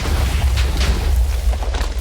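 A Minecraft explosion from a TNT minecart or end crystal in a PvP fight rumbles as a dense, continuous low boom with crackling bursts, loud and close throughout.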